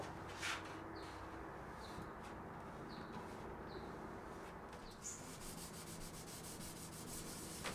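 Hand sanding over a guitar's French-polished finish makes a steady, soft, continuous rubbing hiss, close and quiet, with faint chirps scattered on top.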